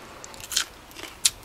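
Two sharp crunchy bites into a roselle seed pod, close to the microphone, with faint chewing crackles between them and no talking.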